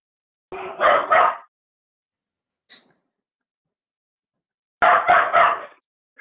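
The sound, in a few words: puppy barking at a printer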